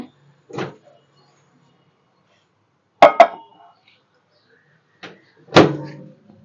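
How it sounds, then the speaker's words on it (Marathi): A dish is placed into a microwave oven while cooking a Malvani-style field bean (val) curry: a few sharp, close clicks and knocks from the door being handled, separated by silence. "आता मी ओव्हन मध्ये ठेवते."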